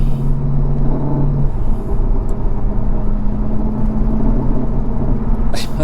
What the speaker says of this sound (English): That exhaust just doesn't sound great,